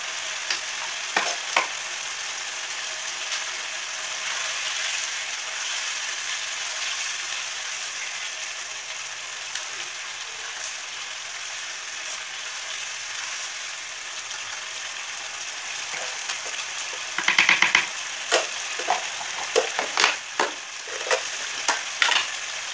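Chicken karahi frying in a pan after a spoonful of yogurt goes in, a steady close sizzle that holds for a long stretch, followed near the end by a cluster of clinks and scraping stirs.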